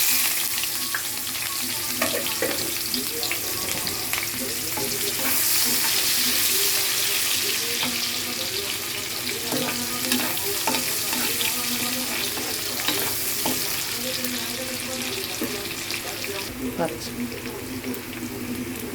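Onions sizzle in a pan for a korramenu fish curry, a steady bright hiss running throughout with occasional stirring clatter, while someone talks over it.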